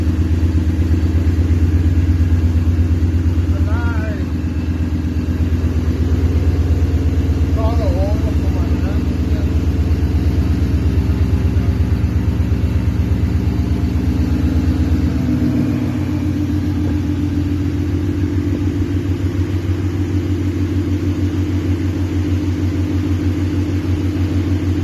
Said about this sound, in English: He got the car fired up.